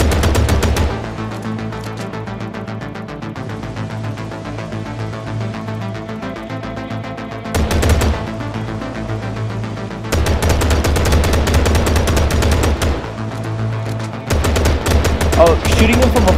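Dense rapid gunfire from a gangster shooter video game set in New Orleans, with sustained machine-gun bursts that stop briefly and restart, loud and continuous over the game's background noise.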